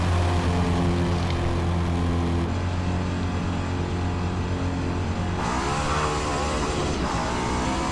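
A race car in a Le Mans practice session of a racing video game, either Forza or Project CARS, pulls out of the pits with a loud, steady engine drone. The engine revs up and shifts pitch partway through.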